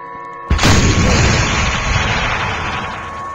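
A loud cannon blast in a video game, one sudden booming report followed by a long rumbling decay, heard alone without talk.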